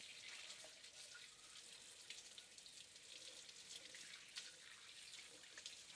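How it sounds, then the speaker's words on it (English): Water runs steadily from a kitchen tap while something is rinsed under it, a continuous close hiss with slight splashing changes throughout, no talking. "I'm just going to rinse this off"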